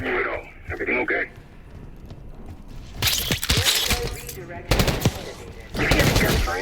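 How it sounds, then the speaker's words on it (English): Machine gun fire from the Black Ops 6 video game rattles in sharp bursts from about three seconds on, echoing as though from lower floors, mixed with radio-style dialogue in between. "You hear the gunfire?"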